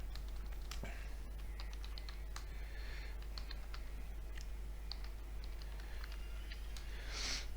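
Typing on a computer keyboard while entering commands into a Cisco switch's configure terminal, heard as irregular close clicks and taps over a steady low hum, with no talking.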